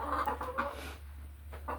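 An Americana hen clucks softly in short bursts over a steady low hum, the murmuring calls fairly close and unhurried.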